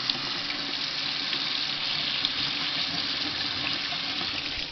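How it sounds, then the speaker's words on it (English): Beans being rinsed under a running kitchen tap, a steady, close splash of water pouring over them in a sink, continuous throughout with no talking. "And you might need to wash the beans a bit."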